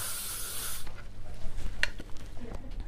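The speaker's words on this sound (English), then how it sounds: "So with my hairspray, again, less is more, but I'm just going to spray her." A short, close hiss of aerosol hairspray sprayed onto a bobbed wig, lasting under a second, followed by soft rustling and handling noises.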